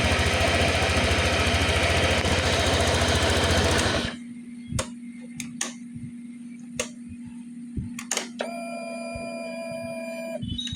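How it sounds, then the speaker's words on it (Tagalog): A weak fuel pump on a Honda Click scooter runs with a loud, steady broadband whir for about four seconds, then settles to a faint, continuous low hum broken by scattered light clicks and ticks. "Itong fuel pump natin."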